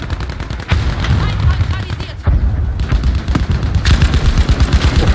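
Rapid gunfire in Battlefield V, a loud, dense run of rifle and machine-gun shots with booming impacts that barely lets up, and a brief lull near the middle before the shooting resumes.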